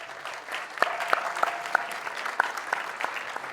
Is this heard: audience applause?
yes